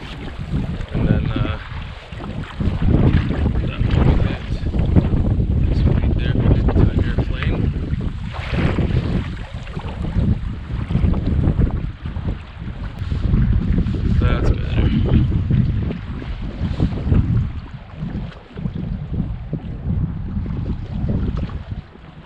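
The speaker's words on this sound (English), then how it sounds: "it's a little wavy and windy" Gusty wind buffets the microphone over the wash of choppy lake water while paddling, with occasional splashes and some talking underneath.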